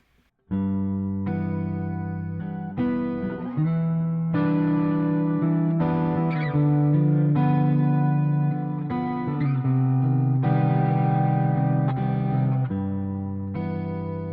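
Distorted electric guitar strums a looping four-chord progression in one key, each chord ringing out in turn, loud and clear with no voices.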